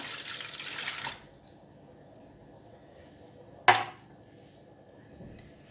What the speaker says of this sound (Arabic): نفرغوا كاس حليب كاس تاع الماء